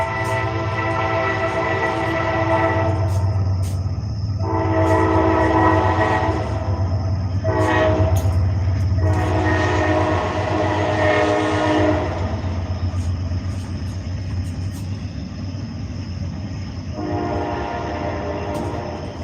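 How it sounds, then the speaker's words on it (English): A train rolls past around a bend near a late-night fishing spot, its horn sounding in several long blasts over a steady low rumble of cars on the rails, with no talk. "I hear that train a coming. It's rolling around the bend."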